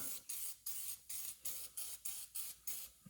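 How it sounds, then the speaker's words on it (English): Repeated short hissing bursts of an aerosol spray can coating a D16Y7 engine, about eight evenly spaced sprays in a steady rhythm, close and clear with no talking. "Spray a good little coat or two on."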